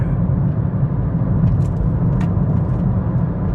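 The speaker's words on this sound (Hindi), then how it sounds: "मुझे ऐसे लगा जैसे गाड़ी मेरे तरफ आ रही है।" A car rolls along a forest-lined country road on an evening in England, a steady low rumble of tyres and engine at close range with faint higher ticks, no voices.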